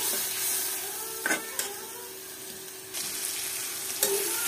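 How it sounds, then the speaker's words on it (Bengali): Spice paste for mustard koi fish fries in a pan with a steady, soft sizzle, broken by a few brief louder scraping or stirring bursts, close by and with no talk. "মশলাটা কষায় নিতে হবে। ভালোভাবে কষাতে হবে যাতে মশলার কাঁচা গন্ধটা না থাকে।"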